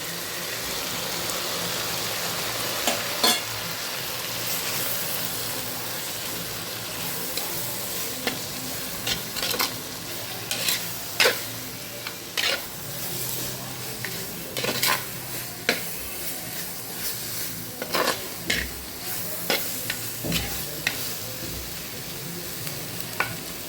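Chilli, turmeric and coriander powders sizzle steadily in hot oil in a pan for a dried prawn curry, with a spoon repeatedly scraping and clanking against the pan throughout.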